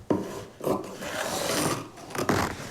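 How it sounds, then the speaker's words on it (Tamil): Scissors cut through fabric for a long umbrella frock in a few rough, rasping strokes, close and fairly loud, with short gaps between the cuts. "அப்படியே மேலே வரலாம் ஃபுல்லாகவே கட் பண்ணி எடுத்துக்கிறேன்"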